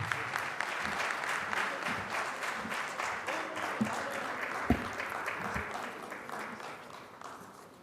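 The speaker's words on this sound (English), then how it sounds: "Mr. Shiv Khera, a round of applause for him there." Sustained audience applause at a Credai conference after a keynote speech, a dense steady clapping from a large crowd that holds loud for several seconds and thins slightly toward the end.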